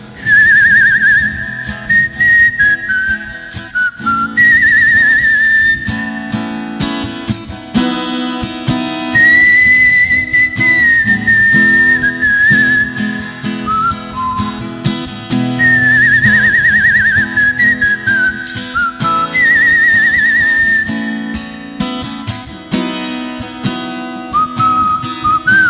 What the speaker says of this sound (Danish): Hør, hvor jeg kan fløjte.